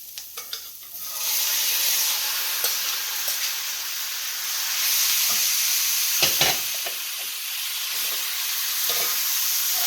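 Meat goes back into a pan of golden-brown frying onions, setting off a steady, close sizzle with scraping stirs and a few sharper crackles; no one speaks.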